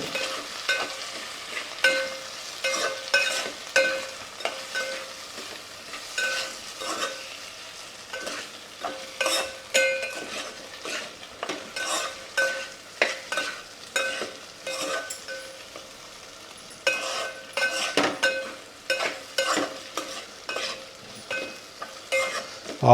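A spoon scrapes and stirs through potatoes and turmeric in a sizzling pan, rhythmic strokes repeating steadily over a soft frying hiss, close up with no talking.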